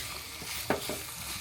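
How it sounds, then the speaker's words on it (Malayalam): Chopped coconut frying in a pan for unniyappam, a steady broadband sizzle with one sharp stir or scrape near the middle, close and fairly quiet, no voices. "നമുക്ക് നമ്മുടെ തേങ്ങയിട്ട് നന്നായിട്ടൊന്ന് വറുത്തെടുക്കാം"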